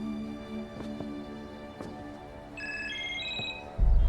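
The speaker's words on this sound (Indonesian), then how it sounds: "sebuah handphone berbunyi dan mengangkatnya" A mobile phone rings in a film scene with a tonal electronic melody that rises in steps, playing clearly over a low background hum, then gives way to a sudden louder rumble at the end.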